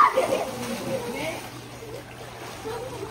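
A child splashes into a backyard pool at the start, a short watery splatter fading into lapping ripples, while children shout and chatter loudly nearby.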